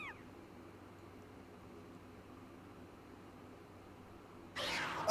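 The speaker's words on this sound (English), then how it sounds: "I'm being attacked by a rabid cat!" A cat remnant in The Legend of Zelda: Skyward Sword gives a short rising meow at the start, then a low steady hum follows and a sudden loud, harsh burst breaks in near the end.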